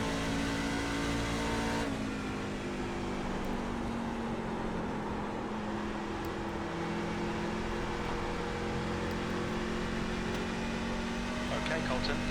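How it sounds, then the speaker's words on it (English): Race cars run at Darlington in iRacing, a steady close engine drone with a pitch shift as another car pulls alongside on the inside, continuous and loud. "Car inside. He's going to pass me in turn 2."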